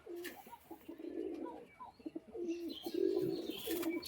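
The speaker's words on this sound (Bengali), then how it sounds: "এই যে এটা হচ্ছে মাদি পায়রা দেখুন" A female flying pigeon coos softly at close range, repeated low throaty rolling calls in an uneven rhythm with faint chirps from other birds around.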